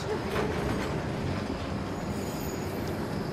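A train rumbles in the Uncharted: The Lost Legacy video game, a continuous loud rolling clatter of rail cars, with faint squeal-like tones running through it and no break.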